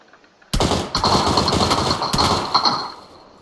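Sustained automatic gunfire in PUBG Lite starts abruptly and rattles on for about three seconds in dense bursts, loud and close, with no talk over it.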